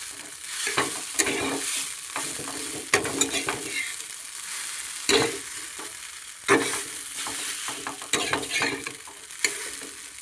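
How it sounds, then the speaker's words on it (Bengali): Maggi noodles with masala being stirred in a sizzling pan, repeated scraping strokes of a spoon against the metal at an uneven rhythm over a constant frying hiss. "ভালো করে একটু নেড়ে নেবো।"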